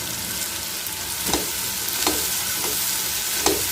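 Tomato masala for mutton biryani stirred and fried in a pot, a steady close sizzle broken by a few scraping stir strokes, with no talk.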